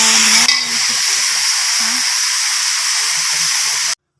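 Cauliflower fries in hot oil in a pan, giving a loud, continuous hiss close by that stops abruptly near the end. A brief tonal sound and some faint voice come through at the start.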